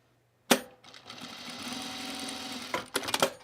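Sewing machine hemming a pajama top, one steady run of stitching after a sharp start, then a few louder clunks near the end; close and clear, no talking.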